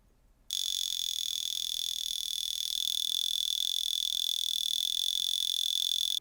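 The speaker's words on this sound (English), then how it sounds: "they're basically alarm watches, and you can set them off like this." A Vulcain Cricket mechanical alarm watch rings with a steady, piercing high buzz that starts abruptly and holds continuously, close and alone.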